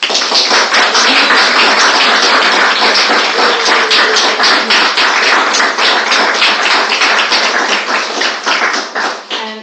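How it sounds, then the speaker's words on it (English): Loud, sustained applause from a large crowd, dense clapping filling the whole stretch and tapering slightly at the end. "give them a round of applause"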